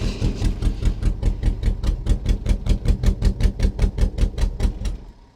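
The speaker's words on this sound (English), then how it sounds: "it sounds like we're barely running on one cylinder right now" A BMW 318i engine runs roughly, barely firing on one cylinder, giving a steady lumpy pulse of about four uneven beats per second that stays loud and close before cutting off near the end.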